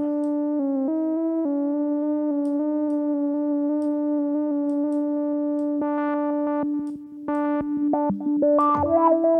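A TAL-U-NO-LX software synthesizer plays sustained harmonic tones whose pitch steps shift under random LFO modulation, then breaks into choppy, stuttering note bursts near the end, heard alone and fairly loud.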